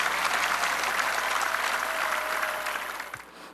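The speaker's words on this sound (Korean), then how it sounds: "유족들에게 감사의 박수를 보냅시다" An audience at a church prayer rally held at the War Memorial in Yongsan, Seoul gives sustained applause for the bereaved families of war dead, a dense clapping wash that fades out near the end.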